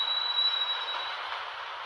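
A subway train in Subway Simulator 3D picks up speed, giving a steady, fairly loud rushing hum with a faint high whine running through it and no break.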